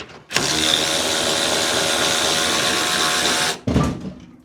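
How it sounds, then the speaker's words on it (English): Ratchet spinning off a shock absorber bolt beneath a 1990s EK Honda Civic, a rapid continuous clicking that runs loud and steady for about three seconds, then stops abruptly with a short rattle after. "Shocker bolt coming off."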